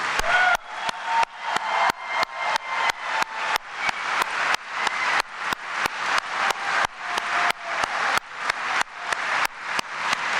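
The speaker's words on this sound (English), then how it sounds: "We want to give you a round of applause." Rally crowd applauding veterans at a Vice President Pence event in Billings, a loud, broad clapping roar that repeatedly cuts out and swells back in short, regular bursts.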